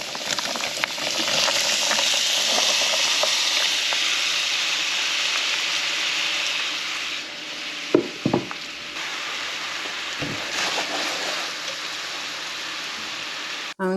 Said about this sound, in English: I'm going to let my onions cook for about 2 minutes